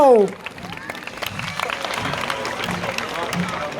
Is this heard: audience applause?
yes